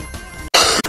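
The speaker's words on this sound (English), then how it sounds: "Sorry for the coughing, guys." A sick person coughs up close, a couple of sharp, loud bursts separated by brief gaps, with a throat-clearing quality and no talk.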